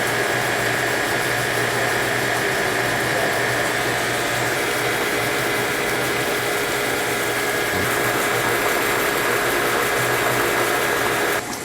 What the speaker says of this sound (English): we just did those 18 bags of malted barley into the grinder